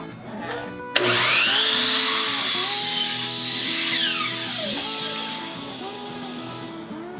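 A miter saw fitted with a CMT miter blade slices through a piece of oak, with a sudden loud start into a sustained whining cut and a second pass of blade tones near and loud.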